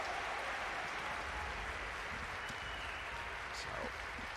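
Crowd applause at The International 2021 Dota 2 tournament fills the space as a steady, wide wash of clapping, running continuously beneath a commentator's voice.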